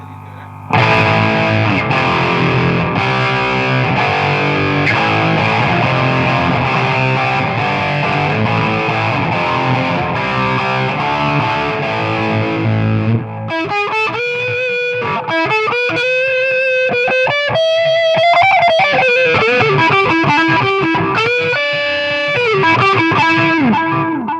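A heavily distorted electric guitar, run through a multi-effects unit into the front of an amp, plays loud sustained chords, then shifts to a gritty, effect-laden melodic lead, with no voices.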